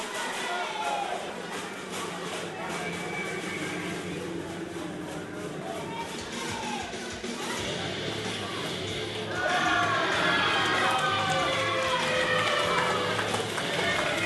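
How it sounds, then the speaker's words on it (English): A capacity crowd at a Young Lions Cup wrestling event gives a continuous roar of cheering and noise that swells louder partway through, with an announcer talking over it. "this capacity crowd has been rocking and rolling all night long."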